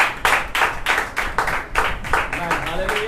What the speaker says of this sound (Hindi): भाई जोरदार ताली करें